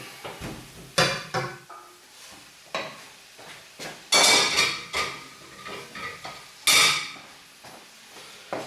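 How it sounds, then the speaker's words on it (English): Spoon scraping and knocking around a pan as minced meat is stirred into onions, peppers and curry paste for keema jalfrezi, giving irregular close clatters and scrapes with quiet gaps between them. "stir that mince right into those onions and peppers and curry paste"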